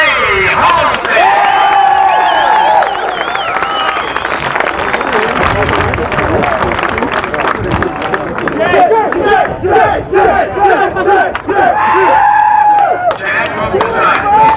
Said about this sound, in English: Big round of applause, if you will, for Team Associated Reedy Modified Powered, Chairman Jay Halsey.